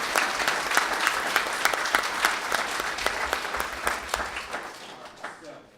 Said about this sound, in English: So let's give our instructors first a round of applause.